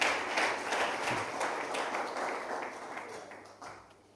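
Church congregation clapping together, a dense, continuous roomy patter of many hands that holds steady and fades slightly toward the end.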